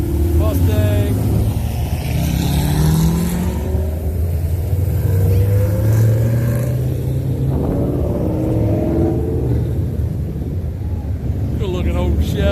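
Hot rods such as a Corvette, a Mustang and an old Chevy cruise past on Coastal Highway in Ocean City, Maryland, during a spring hot rod weekend, their engines rumbling and revving close by under steady talk from people nearby.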